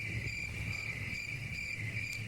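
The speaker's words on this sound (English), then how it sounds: "Damn, not the crickets." Crickets chirp in a steady pulsing trill, a bright repeated insect call played alone right after a flat joke, with a faint low background hum beneath.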